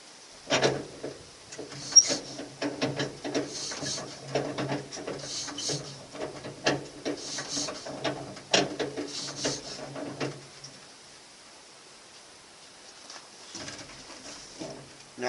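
A cold 1926 Ford Model T engine turned over by hand crank gives several irregular mechanical clunks and squeaks close by, followed by near silence.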